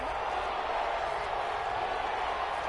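A stadium crowd in a PS4 football video game roars steadily through a goal-line stand, a dense, continuous wash of cheering that holds loud and even throughout.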